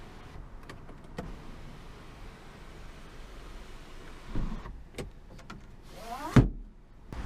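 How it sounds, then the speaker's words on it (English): The power tilting and sliding sunroof on a 2018 Hyundai Sonata Limited runs with a faint, steady electric motor whir inside the car, followed by a few soft clunks as it moves back. "on this limited trim, you do have the power tilting and sliding sunroof"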